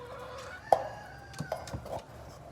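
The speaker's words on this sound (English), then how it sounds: "My aggressive rooster." An aggressive rooster makes a few short clucks and low calls, spaced irregularly, with a faint higher crow-like tone in the background.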